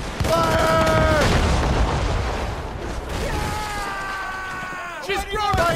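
Ship cannons fire in a naval battle in Assassin's Creed Rogue with heavy booming blasts and rumbling reports. Voices shout over the gunfire throughout.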